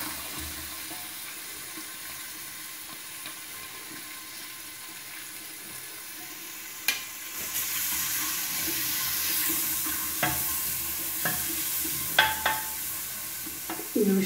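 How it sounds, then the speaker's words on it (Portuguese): Chopped onion and garlic sautéing in a pot for a fish and cabbage dish: a quiet start, then a soft hiss of frying takes over midway, broken by a few sharp clinks and scrapes of a utensil. "Agora eu vou acrescentar a cebola"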